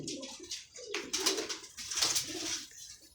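Pigeons kept for sale coo and rustle close by in a loft, with soft repeated calls and wing or body movement filling the short stretch, no voices.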